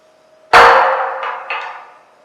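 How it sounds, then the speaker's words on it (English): A single sharp metallic hammer strike knocking a cut, tack-welded steel piece loose, ringing with a bright clang that decays over a second or so, with a second lighter metallic ring following, close and clear in a quiet setting. "grab a hammer. Usually takes a couple good swings to get it right off"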